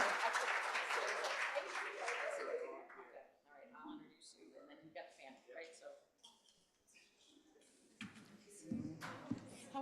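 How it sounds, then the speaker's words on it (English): Audience applause at an event, a burst of clapping that fades over about three seconds, followed by scattered voices and small handling noises, with a few more claps near the end. "Another round of applause."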